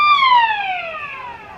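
A football ground siren wails loudly and steadily at an Australian rules match, Hamley Bridge v Balaklava in the Adelaide Plains Football League. The long tone glides slowly downward, with crowd ambience faint underneath.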